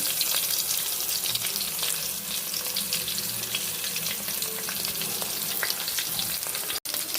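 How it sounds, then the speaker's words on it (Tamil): Onions sauté in a pan with a continuous, even crackling sizzle, close and steady, with faint stirring and no talking, broken only by a brief dropout near the end. "வெங்காயம் போட்டாச்சு. வெங்காயம் வதங்கிட்டு"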